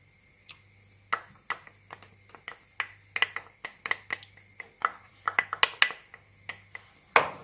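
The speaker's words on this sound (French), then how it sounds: "On va battre rapidement notre petit jaune d'œuf." A whisk strikes a bowl while beating an egg yolk, giving bright irregular clinks in quick bursts, close and clear against a faint low hum.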